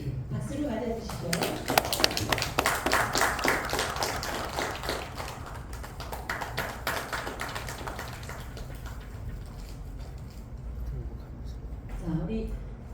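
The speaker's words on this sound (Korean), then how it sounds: "박수를 맞아주시고요" Audience applause at a seminar: sustained, fairly close clapping from a moderate crowd that thins out toward the end, with a brief voice at the close.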